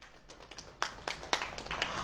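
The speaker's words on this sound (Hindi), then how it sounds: "अगर मालूम है तो ताली बजाइए।" A church congregation claps hands in scattered, uneven bursts, several sharp claps standing out among softer ones, fairly faint and close in a quiet room.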